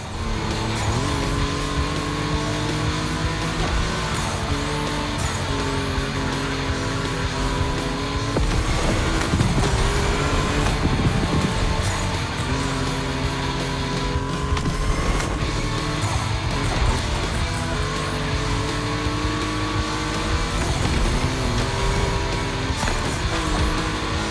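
Volkswagen race cars on a track in The Crew Motorfest, engines droning loudly and continuously with rising and falling revs, gear shifts and occasional tire squeal throughout.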